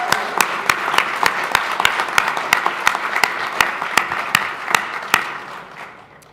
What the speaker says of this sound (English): So can we give our nominating committee a round of applause?